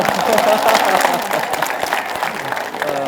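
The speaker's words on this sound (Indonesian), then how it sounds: "tepuk tangan" Applause from a Majelis Ta'lim Al-Ikhlas religious study gathering in Medan Labuhan, dense clapping across the whole moment, fairly loud and steady, with a few voices mixed in.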